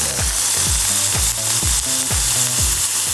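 Lion's mane mushrooms frying in a pan produce a loud, steady sizzle and crackle of oil, with a regular series of low knocking thuds underneath, close up and with no one talking.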